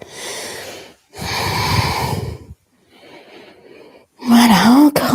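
Deep, audible breaths during a gym exercise class: a couple of strong inhales and exhales with short pauses between them, and a voice briefly at the end.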